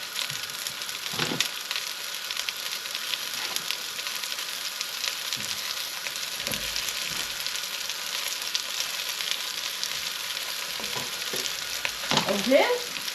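Mushrooms brown in a pan for coq au vin with a soft, steady sizzle, broken now and then by faint stirring scrapes and clinks.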